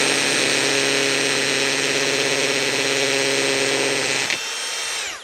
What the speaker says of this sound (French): voyons un peu maintenant le perçage d'un parpaing tout simplement